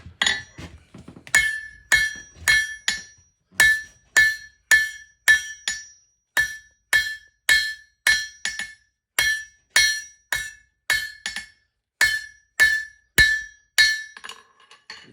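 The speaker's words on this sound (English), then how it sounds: "You're hammering it there," Hammer blows on hot steel at an anvil while forging a leaf ring out sharply in a steady, evenly spaced series of dozens of bright metallic strikes, close and loud with short pauses between runs.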